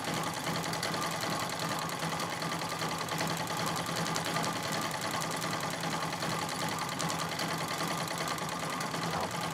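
A Singer 66 treadle sewing machine chatters in a steady, continuous run while free-motion quilting a feather pattern, loud and close throughout with no voices.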